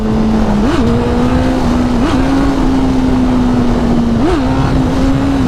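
A motorcycle engine drones loud and steady close to the rider through a brief low wheelie, its pitch jumping up in three short revs at about one, two and four seconds before settling back to a constant hum.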